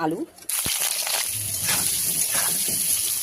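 Potatoes hit hot oil in a wok and set off a steady, bright sizzling hiss that starts abruptly after a brief voice and keeps going close by.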